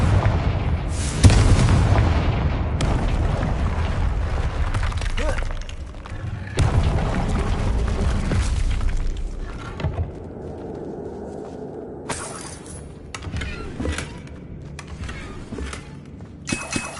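A Confringo blasting spell going off in Hogwarts Legacy, with loud booming explosions and sharp bursts amid dense game noise that thins out toward the end, punctuated by a few scattered pops, and a voice speaking at times.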